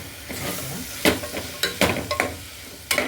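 Kuruma masala with garam masala, pepper, chili, turmeric and coriander powders sautéing in a pan, with a soft sizzle and a few sharp spatula scrapes and knocks in quick bursts, close and fairly loud.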